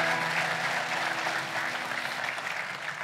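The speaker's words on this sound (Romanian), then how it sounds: "Vă rog să o aplaudați." Congregation applause at a church baptism service, a steady wash of many hands clapping, moderately distant and even, with no talking over it.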